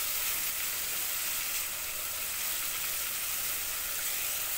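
Garlic cloves dropped onto wilted onions in a hot pan, giving a steady, loud, close sizzle with no breaks and no talk.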